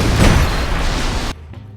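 Loud, dense explosions and destruction in the video game Just Cause 3, a sustained roaring blast that cuts off abruptly, leaving faint rumbling debris.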